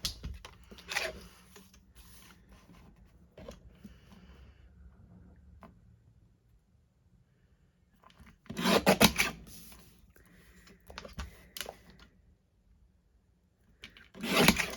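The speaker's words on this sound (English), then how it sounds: "I'm just going to grab my mini guillotine and I'm just going to chop her out." Mini guillotine trimmer cutting card stock, scraping and rasping slide strokes up close, in short bursts separated by quieter handling sounds.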